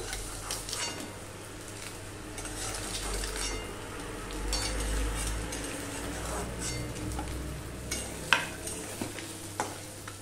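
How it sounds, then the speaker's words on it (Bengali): Eggs frying in oil in a pan, a steady close sizzle with stirring and scraping, plus a few metallic clinks of a utensil toward the end, no speech. "ডিমগুলো সব ভাজা হয়ে গেছে।"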